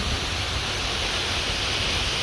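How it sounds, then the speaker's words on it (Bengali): The Thankoain waterfall pours down toward the Toin canal in a dense, steady roar of rushing water, close and constant throughout, with nobody speaking. "এই ঝর্ণাটা সরাসরি তৈন খালের দিকে যেয়ে পড়ছে"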